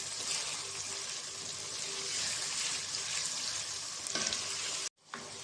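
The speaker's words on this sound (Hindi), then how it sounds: "सब्जियों को फ्राई करते हुए तकरीबन हमें 2 मिनट हो चुके हैं।" Vegetables sizzle steadily in a pan for chicken jalfrezi, a dense continuous frying hiss with a brief stir-like burst and a short drop near the end.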